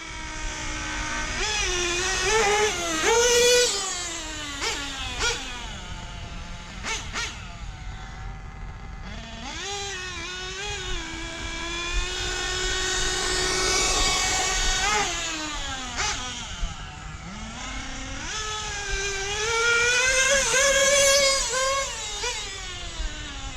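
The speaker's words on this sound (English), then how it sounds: "It's cold out here. That motor's cold." A cold car engine runs near the listener, revving up and down in long sweeping rises and falls with a gritty, uneven idle between pulls.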